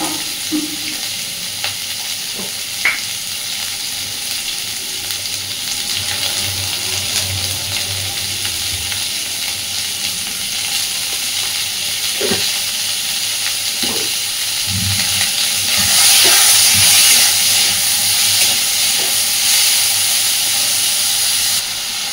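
Pointed gourd (potol) sizzles steadily while frying in a pan, with a constant hiss punctuated by occasional soft stirring knocks and a brief louder burst of sputtering partway through; no voices.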